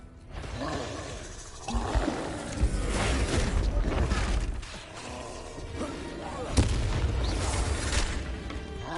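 Spell explosions in the video game Hogwarts Legacy, loud deep booms and bursts with mechanical clanks, swelling in two heavy waves, with spoken voice mixed in.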